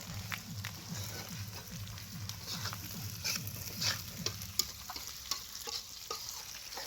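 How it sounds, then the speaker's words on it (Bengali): Onion and garlic frying in a pot over an outdoor fire at a farm picnic, chicken being cooked; steady soft sizzle with occasional stirring scrapes and clinks, fairly quiet, no talk. "প্রথমে পেঁয়াজ এবং রসুন ভাজা হচ্ছে।"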